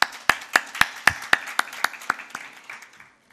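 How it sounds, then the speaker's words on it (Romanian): Slow, even clapping of roughly a dozen distinct, close claps from a small group at a school reading contest draw, fading out at the end with no talk. "Dați-ne voie nouă, organizatorilor, să vă aplaudăm pentru acest lucru"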